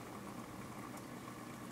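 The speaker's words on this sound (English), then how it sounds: "Boiling water." Quiet, steady rumble of water boiling in a pot on a home stove, a soft continuous bubbling hiss with no distinct pops and no voices.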